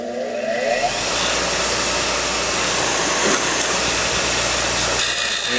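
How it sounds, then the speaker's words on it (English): A bench grinder wheel dresses up the end and damaged threads of a metal part, giving a steady loud whirring hiss that holds for several seconds with a brief grinding flare near the end. "basically just use your grinder wheel here. And I would clean this up."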